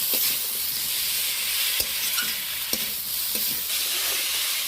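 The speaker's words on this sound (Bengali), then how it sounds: "এবার ভালো করে 2-4 বার নেড়ে নেব।" Fried taro pieces are stirred into a sizzling spice masala in a pan. A constant frying hiss runs underneath, and a few sharp scraping strokes cut through it.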